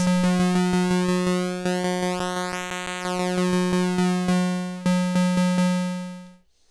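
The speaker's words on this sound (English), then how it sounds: "Another one is pulse width modulation for the pulse waveform." A reedy MiniBrute 2S analog synthesizer pulse wave with pulse width modulation repeats rapid staccato notes on one pitch, its timbre shimmering and shifting as it plays, ending on a sustained note that fades.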